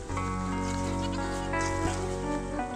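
Dairy goats of Nubian and La Mancha breeds bleat close by in drawn-out, wavering calls that overlap almost continuously, against a farmyard background.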